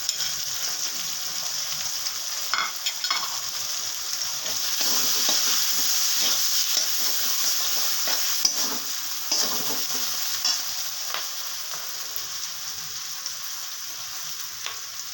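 Chopped green chili with turmeric, Kashmiri red chili powder and cumin powder frying in oil in a pan for a katla fish curry, a continuous close hiss of sizzling with irregular scraping strokes of stirring.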